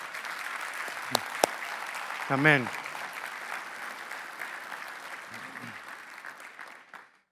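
A church congregation applauds warmly and steadily, the clapping fading out toward the end, with a brief spoken word in Spanish rising over it partway through.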